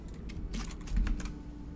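Rapid typing on a computer keyboard, irregular clusters of key clicks spread across a couple of seconds at a close, moderate level over a steady low room hum.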